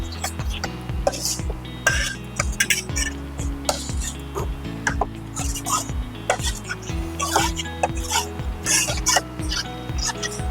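Flour roasting for kalakand, stirred in a pan with a metal spoon, giving steady rhythmic scraping and clinking strokes that repeat loud and close for several seconds, with no talking over them.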